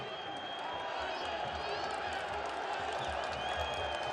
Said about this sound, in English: Some applause from the crowd